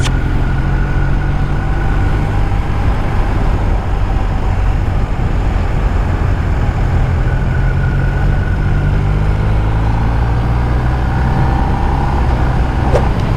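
A 2024 BMW R 1250 R roadster with a 136-horsepower boxer engine, ridden in rain mode: a steady, loud, close engine drone with a low throb and wind noise, no talking.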